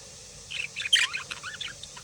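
Pet budgies give a quick run of bright, faint chirps and twitters, close and alone in a quiet room.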